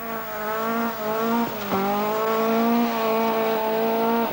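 A Fiat Abarth 131 rally car at the 1979 RAC Rally drives by with a loud, steady, rasping engine note, dipping sharply once partway through as if shifting gear, then climbing and holding again, alone without talk.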